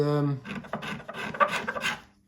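A steel scraper worked across the carved wooden top of an archtop guitar, giving a series of short raspy strokes after a brief voice at the start, fairly close and moderately quiet.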